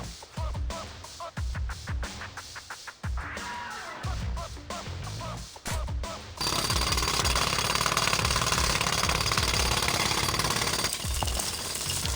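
A heavy drill bores into the ground beneath a treatment facility reservoir in a Teenage Mutant Ninja Turtles: Mutants Unleashed cutscene. It starts as loud stuttering bursts, then settles into a continuous, harsh, grinding roar that runs for several seconds.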